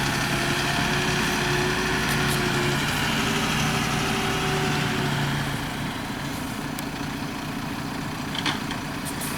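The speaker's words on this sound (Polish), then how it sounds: "Wywrotka została załadowana. Załadowana, teraz odwozi piasek tam do tyłu." A loaded dump truck's engine runs steadily and loudly at idle on a foundation construction site, a constant low rumble that eases slightly toward the end.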